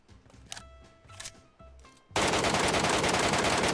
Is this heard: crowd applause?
no